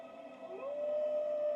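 A distant wolf howl rises and then holds a thin, steady tone, faint against a quiet background.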